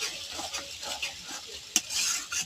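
Food stirred in a pan on a gas stove, scraping utensil strokes over a soft sizzle, with a sharp clink near the end; fairly quiet and close, no talking.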